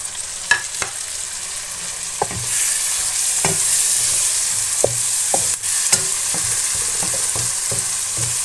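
Tomatoes go into a sizzling masala for a capsicum potato sabzi, the frying hiss rising after a couple of seconds while a spoon clinks and scrapes the pan in irregular strokes.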